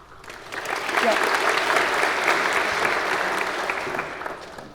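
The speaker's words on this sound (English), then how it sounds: "If you can hold your applause for the 10th one" A crowd claps steadily for several seconds at a senior awards ceremony, applause swelling quickly and holding at an even level before tapering off.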